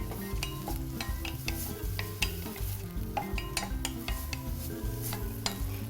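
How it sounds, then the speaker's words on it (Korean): Meat and julienned shiitake mushrooms being stir-fried together in a pan for a Korean dish, with repeated close scraping and clattering strokes of the utensil over a low sizzle. "채썬 표고는 고기와 같이 볶아주세요"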